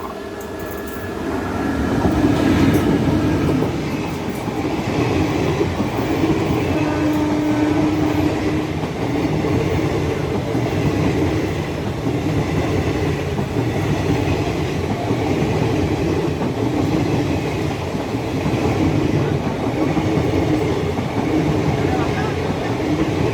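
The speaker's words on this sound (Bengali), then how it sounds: "আমাদের ট্রেন কৃষ্ণনগর ছাড়লো, অলরেডি 10 মিনিট লেট।" A passenger train on the Kolkata–Lalgola line runs steadily after leaving Krishnanagar, heard from inside with a continuous loud rumble and rhythmic clickety-clack of wheels, while voices talk faintly beneath the noise.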